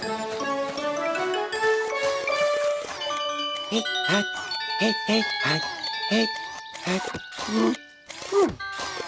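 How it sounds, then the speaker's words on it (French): Small bells chime in a tinkling sequence of clear tones, some struck in quick succession, with voices occasionally heard between the rings. "Avec Wiz, on remettrait vite ces cloches dans le bon ordre."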